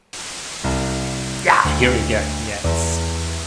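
Strong white noise mixed digitally into an audio file gives a loud, dense, continuous hiss that nearly buries a steady tone and a man's brief speech.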